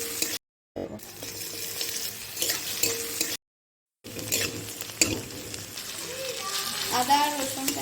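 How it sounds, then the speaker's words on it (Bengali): Onions fry in hot oil in a kadai with a close, crackling sizzle and stirring scrapes, broken by two brief silent cuts, with a voice speaking softly over part of it. "ওর মধ্যে পেঁয়াজগুলো দিয়ে দেবো।"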